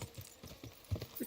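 Horse in the video game Kingdom Come Deliverance II moving at pace, its hoofbeats a fairly quick, steady clip-clop heard close and moderately loud with no talking over it.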